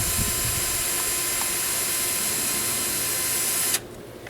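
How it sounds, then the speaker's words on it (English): Power drill boring a hole during installation of a Wind Cheeta unit, a steady loud whine running unbroken for nearly four seconds and then cutting off abruptly. "So we take the drill."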